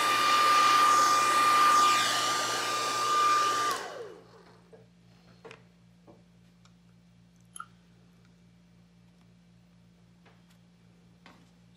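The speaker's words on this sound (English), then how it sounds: "So now I will use the blow dryer and move the paint inside." A hair dryer blows loudly and steadily for a few seconds, pushing fluid acrylic paint across a canvas, then cuts off, leaving quiet room tone with faint ticking and scattered small clicks.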